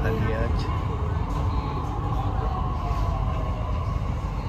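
A Delhi metro train carriage rumbles steadily on the move, a dense continuous low roar with faint squeals, while someone talks over it.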